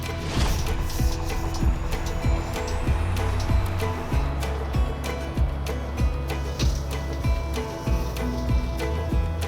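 An RV's engine hums low and steady as the driver eases on the accelerator through a turn, with a regular ticking that repeats throughout beneath a dense, close mechanical rumble.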